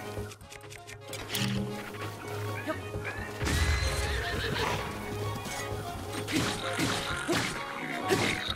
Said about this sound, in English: Few times I can use a horse.